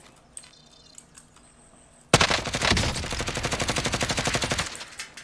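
Automatic gunfire in the video game Warzone bursts in loudly after a couple of seconds of near quiet, then continues as a rapid, steady string of close shots.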